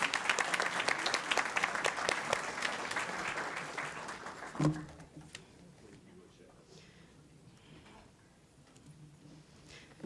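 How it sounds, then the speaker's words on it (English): An audience at a school board meeting gives a round of applause, dense steady clapping for about four and a half seconds that stops abruptly, then a quiet room with faint murmurs. "One more round of applause."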